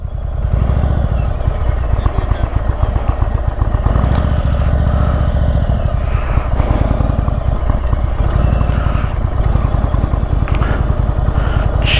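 An Indian Chief Bobber motorcycle engine roars loud and close on a test ride, with continuous heavy rumble, clattering mechanical noise and wind buffeting throughout.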